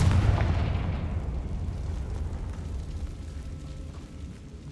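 A Confringo blasting spell explodes in Hogwarts Legacy, a close boom with a sharp attack that rolls off into a long, fading low rumble over several seconds.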